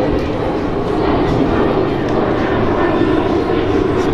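Propeller or jet airplane passing overhead, a loud, steady broadband engine roar that fills the whole stretch without letting up, with no voices over it.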